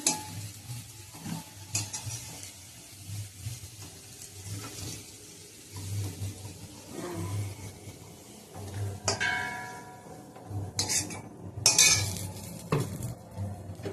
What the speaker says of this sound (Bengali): আলুটা ভাজা হয়ে গেছে, তুলে নিচ্ছি।